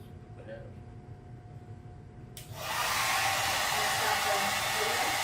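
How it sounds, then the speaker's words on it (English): Hair dryer switching on and blowing steadily at close range to dry a freshly thrown thin-walled clay bottle or jug form, loud continuous airflow after a quieter room hum. "I'm going to blow dry this and then cut it so I have another"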